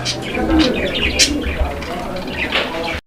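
Pigeons at a fancy pigeon farm coo and chirp softly under steady background chatter and market noise, with a brief flutter of wings.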